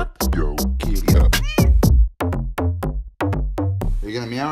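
A cat meows repeatedly, a series of close, loud, drawn-out cries in quick irregular succession.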